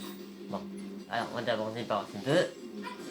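A pet dog named Scooby barks and whimpers indoors in short yips, partly under someone talking in French.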